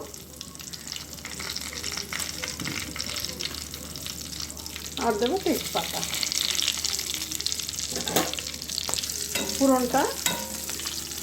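Whole cardamom, cloves, cinnamon, dried chilli and bay leaf crackle and sizzle steadily in hot oil, a soft continuous fry with faint stirring, while someone talks over it.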